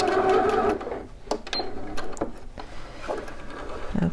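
Home sewing machine stitches a flat dart on shorts, with a short run of stitching, then scattered clicks and handling knocks as the fabric is adjusted and back-stitched, fairly close and without talk.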